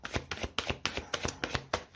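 Tarot cards being shuffled by hand in quick, crisp riffling bursts, close and clear, repeating in a rapid irregular rhythm with no talk.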